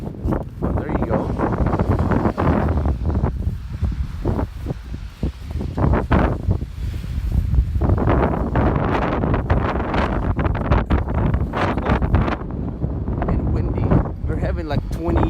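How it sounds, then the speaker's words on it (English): Strong gusting wind of about 24 miles per hour during a snowstorm in Portland, Oregon, roaring and buffeting the microphone without a break, with brief bumps and rustles and a voice speaking over it. "Like 24-mile-an-hour winds right now."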